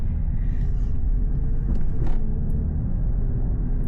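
A Mercedes GLE 53 AMG drives at night, giving a low steady engine and exhaust rumble heard from inside the cabin, constant with a slight swell midway and no voices.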